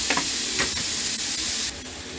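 Pork lardons fry in a seasoned wok with a steady, loud sizzle and a bright hiss, broken by a few stirring scrapes. The sizzle drops a little near the end.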